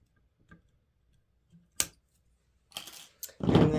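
A few crisp snips of scissors cutting off excess material on a St Patrick's Day wreath, separate short clicks and cuts with quiet gaps, ending in a louder rustling snip, close and alone.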